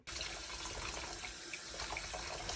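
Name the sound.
warm water splashed onto face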